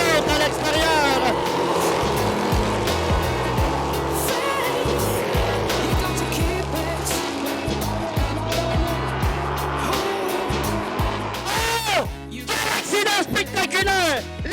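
Two race cars battle side by side at a drag racing event, engines roaring loudly with tire squeal and a rising pass, under an excited announcer and crowd noise.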